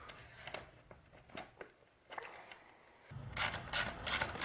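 A ratchet tightens a skid plate during a PST engine jacket installation, with faint, quick clicking strokes in short bursts, followed by louder, close clicking and rubbing near the end.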